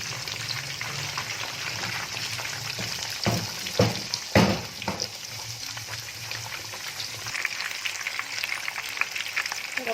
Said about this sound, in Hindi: तो ऐसे हम सारी की सारी फिश फ्राई करेंगे।